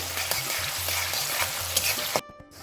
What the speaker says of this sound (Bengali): প্রথমে আমি চিকেন কিমাটা ভেজে নিলাম